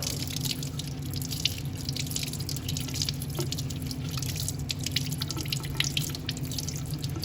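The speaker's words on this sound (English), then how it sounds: "Let's run it under cold water." Cold tap water runs steadily over a firm, sticky polymer sample, a continuous close splashing and dripping stream with no talking over it.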